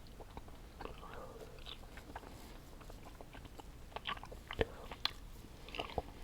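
Someone chews Warheads cube gummy candies close up, with soft wet bites and irregular squishy chewing sounds over a quiet room.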